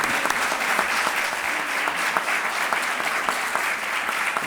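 A crowd at a book presentation claps in a steady, dense wash of applause from many hands, loud and sustained throughout with no voices over it.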